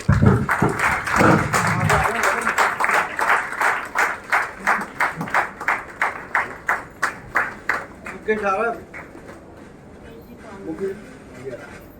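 A standing audience at a Lions Club Delhi installation ceremony and Teej festival applauds to welcome the district's first couple, with loud, steady rhythmic clapping that fades away, and a voice speaking over the start and end.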